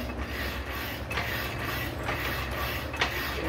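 A power hacksaw cuts through a large piece of steel with a steady mechanical creaking and grinding, its blade stroking back and forth in a slow repeating rhythm over a low motor hum, with no one talking.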